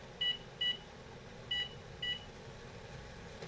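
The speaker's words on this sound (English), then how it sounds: "Set the timer" Kitchen timer beeping four times in short, slightly uneven bursts, clear and close over a low background hum, set while carp bait corn bread boilies boil on the stove.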